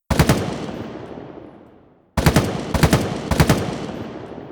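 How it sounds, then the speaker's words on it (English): Bursts of rapid, punchy battle rifle fire from Halo Infinite, a sharp volley, a brief decaying gap, then more quick powerful shots. "they give a sneak preview of the new battle rifle sound"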